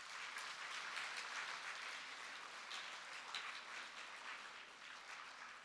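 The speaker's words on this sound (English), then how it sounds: "Let's give them a big round of applause." Steady applause from a school audience at a middle school speech event, a dense even wash of many hands clapping throughout, fairly distant and unbroken.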